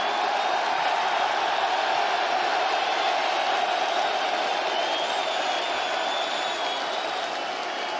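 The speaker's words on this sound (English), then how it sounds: "Listen to the crowd." A large arena crowd at a competitive gaming championship cheers and applauds its champion, a dense, loud, continuous roar of clapping and shouting that holds steady throughout.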